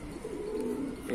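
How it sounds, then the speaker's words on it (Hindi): A sick pigeon coos in a low, steady murmur throughout the short clip, close by, with faint background noise. "ये कबूतर है"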